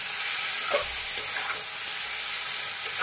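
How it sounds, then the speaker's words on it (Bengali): A spice paste with salt and turmeric fries in a pan while being stirred, giving a soft, steady sizzle with a few faint scraping strokes, close and alone. "নুন হলুদ দিয়ে আবার একবার মিক্স করবো মশলাগুলো যাতে কষানো হতে থাকে।"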